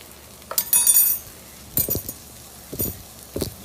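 A spoon clinks and scrapes against a metal soup pot in short separate bursts while flour is stirred into cooked garlic for a Zuppa Toscana base, with no one speaking.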